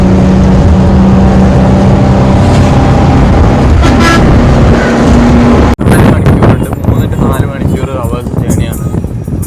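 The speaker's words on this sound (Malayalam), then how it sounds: "അപ്പം ശ്രീലങ്കയിലെ ബസ്സിലാണ് ഇപ്പോൾ പോയിക്കൊണ്ടിരിക്കുന്നത്" A moving bus in Sri Lanka with a TV on board, heard from inside as a loud, constant engine and road rumble. There is a brief dropout near 5.8 seconds, then more cabin clatter.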